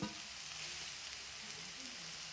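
Hyacinth beans fry in a pan for thoran, a soft, even sizzle heard close and alone, with faint stirring movement underneath.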